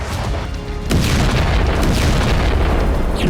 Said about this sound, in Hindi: मॉस्को की हथियार फैक्ट्री में बहुत बड़ा धमाका